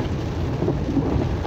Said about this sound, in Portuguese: Olha só que chuva forte, hein,